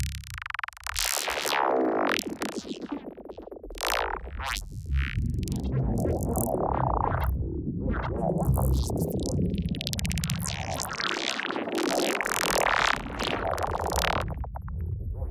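A sustained granular texture built from stacked mGranular and OTT processing, high-passed to remove low end, shimmers with dense crackling grains and shifting bright swells, loud and continuous for the whole stretch with no talking.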